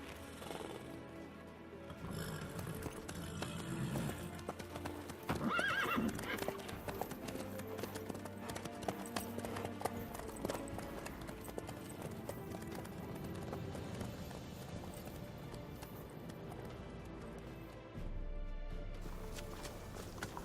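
Horse hooves clip-clop at a steady walking rhythm in The Witcher 3, with voices talking over the hoofbeats throughout.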